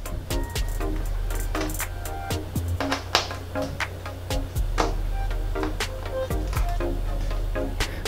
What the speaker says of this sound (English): The speakers are secured with two T10 screws. Go ahead and loosen up those screws now.